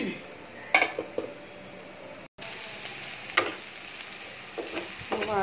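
Onion and garlic frying in oil in a pan for a Malabar spinach dish, a steady soft sizzle with a few sharp clinks of a utensil against the pan, close by, with no voices.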